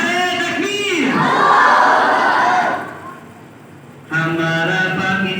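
A large crowd at an Independence Day gathering shouts a takbir slogan in unison, a loud roaring chant that swells and then drops to a murmur before a second loud burst of voices.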